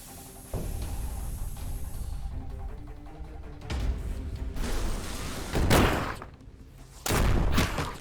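Shooting in the turn-based game Shardpunk Verminfall: four separate loud, broadband bursts of fire and impact, each lasting a moment to over a second, over a quieter ambient background.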